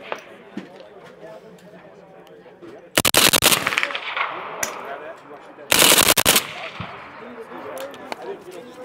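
Two loud bursts of automatic machine-gun fire on full auto at an outdoor shooting event featuring machine guns and suppressors, each a rapid, dense string of shots lasting about a second, with people talking nearby in between.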